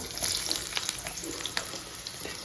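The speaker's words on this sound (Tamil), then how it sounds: "இதில் வந்து நம்ம கட் பண்ணி வச்சுருக்கிற பாவக்காயை போட்டுக்கலாம்." Cut bitter gourd pieces sizzle in hot oil, a loud close crackling fry with bright spits and pops throughout the short stretch and no talk.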